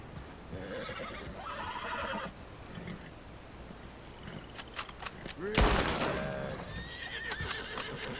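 In the Red Dead Redemption 2 video game, a startled horse gives a loud shrill whinny amid gunfire and hoof clops, with a voice talking over parts of it.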